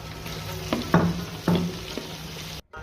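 Chouba bones sizzling in a pan with onion and garlic, a steady frying hiss broken by several sharp crackles and stir clatters, close and fairly loud.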